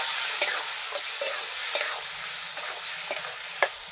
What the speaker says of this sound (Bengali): আর একটু জল দিয়ে আমি মশলাগুলোকে কষিয়ে নেব সবজির সঙ্গে।